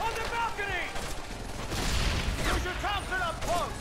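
Gunfire from the PS2-era shooter Medal of Honor: Vanguard, a dense rattling fusillade of shots and booms that runs steadily through the clip, with faint high tonal calls and a voice in the mix.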